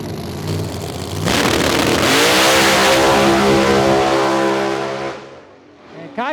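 A drag racing car makes a pass at National Trail Raceway, its engine roaring up loud and close with rising harmonics as it accelerates, holding full power for several seconds before cutting off abruptly.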